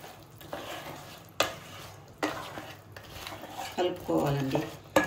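Crab curry is stirred in a pan, with a spoon scraping and clanking in loud bursts about every second over a low sizzle, while a person talks softly in between.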